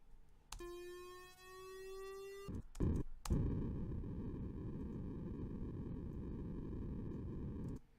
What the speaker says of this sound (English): turn everything off except for this white noise